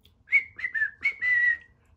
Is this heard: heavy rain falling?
no